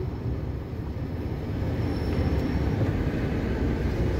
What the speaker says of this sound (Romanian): Urc pe trenul pe bac.